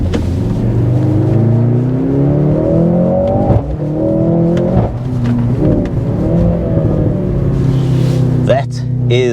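A 2024 Mercedes-AMG C63 S E Performance hybrid in track mode accelerating hard, its engine note rising steadily through the gears with brief shift breaks, loud and close from inside the cabin.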